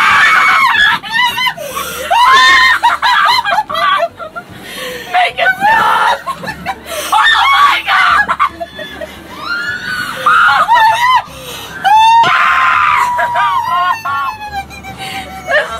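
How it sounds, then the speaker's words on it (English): Riders scream loudly on the Mickey's Fun Wheel, a Ferris wheel ride at a theme park. The shrill, repeated shrieks come in bursts that overlap with nervous laughter and excited talking throughout. "I'm screaming because this is terrifying!"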